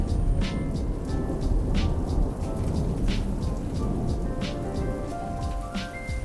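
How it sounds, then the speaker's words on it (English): Rain falls steadily with scattered drips and patters on surfaces, a continuous wet wash with light tapping throughout. "it also smelled like rain, which freckled CJ's shirt and dripped down his nose."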